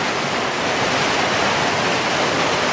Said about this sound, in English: pouring down pretty good out there